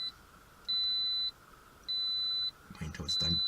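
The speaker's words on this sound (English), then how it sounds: "wait until it's done beeping at me" A 2018 Toyota Corolla iM sounds three steady, high electronic warning beeps in an even on-off pattern, close and clear, and a person starts talking near the end.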